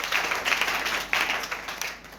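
A congregation claps and cheers in a church, a steady patter of many hands with a few sharper slaps, fairly close and fading slightly toward the end.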